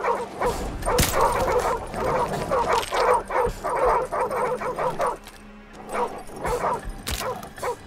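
A dog barks repeatedly in Call of Duty: Modern Warfare Remastered, with rapid, fairly close yaps mixed with whimpering yips in uneven bursts and brief pauses.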